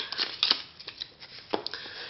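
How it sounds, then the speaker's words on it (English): A deck of playing cards is shuffled during a card trick, close-up riffling and snapping in quick irregular bursts, brief and crisp with no voice. "we're going to shuffle that again"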